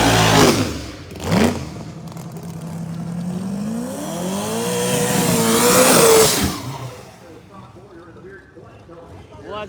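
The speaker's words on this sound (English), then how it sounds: "Todd Boyer over there, the Extreme Racing Engines Pro Charge Chevy Camaro" A powerful turbocharged Chevy Camaro Pro Mod drag race car revs and roars past during qualifying, rising and falling in pitch, while an announcer talks over it.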